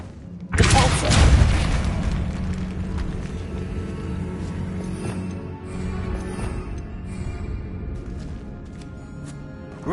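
A Depulso spell blast in Hogwarts Legacy bursts out as a single loud boom, then fades into a rumbling game ambience with faint scattered clatter.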